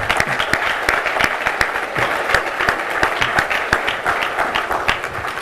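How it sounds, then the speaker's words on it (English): A conference audience breaks into steady, dense applause for its sponsors, many hands clapping at once in a large hall, sustained and fairly loud with no talk over it. "Please join me in giving them a round of applause for their sponsorship."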